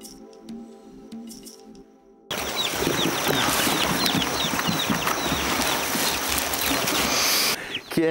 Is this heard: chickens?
yes